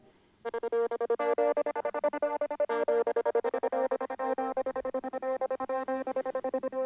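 Bright synthesized hybrid keys preset play sustained chords chopped into a fast rhythmic stutter, with a shimmering, effected texture throughout, no voices.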